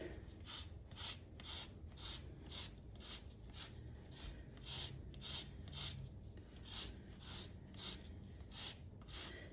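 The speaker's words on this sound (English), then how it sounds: "I started zesting a lemon, so that's what that is." Lemon rubbed across a rasp grater gives a steady run of close, dry scraping strokes in an even rhythm, quiet and alone.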